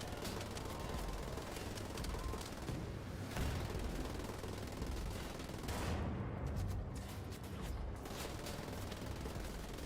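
An overheating machine gun with unlimited ammunition in Wolfenstein: The Old Blood fires dense, sustained bursts, a loud continuous rattle with brief pauses amid explosions.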